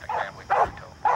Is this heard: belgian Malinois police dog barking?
yes